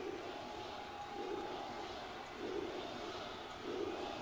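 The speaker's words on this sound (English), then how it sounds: "The crowd still letting both men know what they think of him." Wrestling crowd at a DCWF house show gives off a steady, moderately distant murmur that swells slightly in waves every second or so, with no clear shouts standing out.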